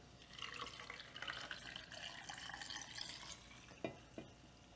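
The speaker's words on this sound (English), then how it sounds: "we're just gonna fill it up with brine here" Brine pours into a jar packed with cucumbers, a continuous soft liquid splash and gurgle close by, ending with a couple of sharp clinks.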